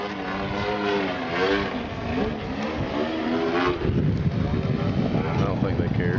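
A 50cc radio-controlled model airplane engine drones steadily as the plane comes in to land at a model aircraft fly-in, with people talking close by.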